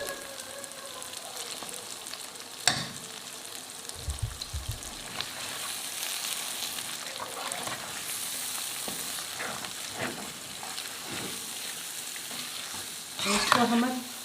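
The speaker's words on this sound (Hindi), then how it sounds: "सारा कीमा हमने इसमें ऐड कर दिया। अब हम इसको थोड़ा सा भूनेंगे।" Minced meat keema fries in oil in a pan with a steady sizzle and repeated stirring scrapes, a few louder clatters of the spoon against the pan standing out, no talking.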